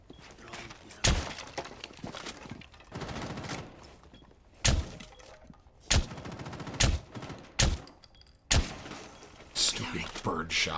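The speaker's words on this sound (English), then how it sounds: "Stupid birdshot shotgun." A birdshot shotgun fires in Rainbow Six Siege: sharp, heavy blasts crack out one by one at irregular intervals over busy gameplay noise, with breaking and shattering sounds around them and a player talking in between.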